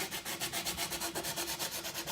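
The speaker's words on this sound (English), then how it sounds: "so I'm going to be sanding now with this sanding block" A sanding block is rubbed by hand over a wooden chest in quick, even back-and-forth strokes, about eight per second, making a soft, close, rhythmic rasp with no voices.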